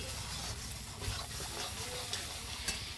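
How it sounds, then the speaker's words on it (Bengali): Goat meat sizzles in a pan as it is sautéed with small splashes of hot water, giving a steady, close frying hiss with faint stirring scrapes throughout. "এবার অল্প অল্প ওরকম গরম জল দিয়ে কষাতে থাকতে হবে।"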